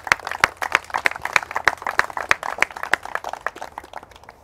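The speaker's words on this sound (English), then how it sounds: "So give them a round of applause." Audience applause for race marshals at a carp fishing challenge event, made of sparse, distinct hand claps spread over several seconds at moderate distance, with no talk.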